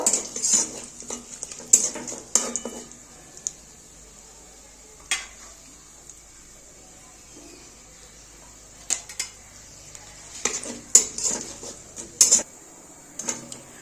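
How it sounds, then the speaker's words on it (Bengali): A faint, steady sizzle of white cumin seeds frying in oil runs in the background, broken by sharp metallic clinks and scrapes of a utensil against a pan. "ফোড়নটা একটু ভাজা করে নেব"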